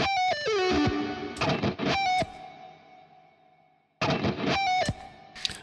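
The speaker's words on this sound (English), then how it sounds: "I'll put a bit of delay, reverb on" Electric guitar played through a Kiesel HyperRig with delay and reverb, sharp distorted phrases and descending notes that ring out into long echoing tails, then a pause before another burst.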